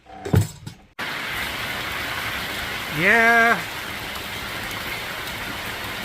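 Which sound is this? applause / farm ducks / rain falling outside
rain falling outside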